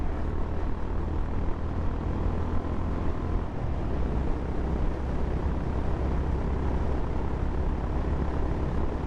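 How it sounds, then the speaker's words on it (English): A 2024 Honda CB350 H'ness motorcycle cruising at highway speed around 95 km/h, its loud exhaust making a constant dense roar mixed with wind noise, steady and close throughout. "And when you're doing long distances with a loud exhaust like this"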